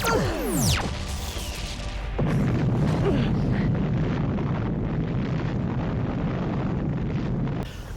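A bomb explodes in the film Turbo Kid, a heavy booming blast with whooshing debris, settling into a dense sustained roar that cuts off abruptly.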